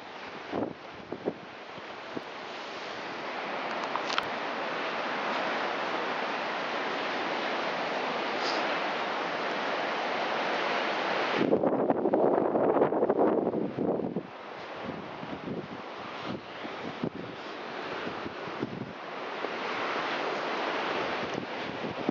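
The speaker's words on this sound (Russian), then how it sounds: "вот он пляж" Sea waves wash onto a beach at Anapa during a winter blizzard, a continuous surf roar mixed with gusting wind buffeting the microphone, swelling louder near the middle, with no voices.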